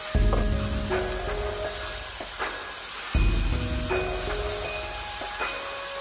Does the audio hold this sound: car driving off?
no